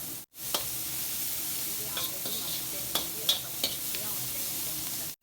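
Veg noodles are stirred in a pan over a constant close sizzle, with a few sharp scrapes and clicks of the utensil against the pan.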